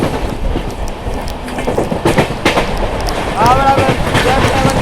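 Indian passenger train, the Gomti Express, rolling along the rails past a station loop, a continuous broadband rumble with rhythmic clatter and brief squealing wheel tones, heard nearby under a voice.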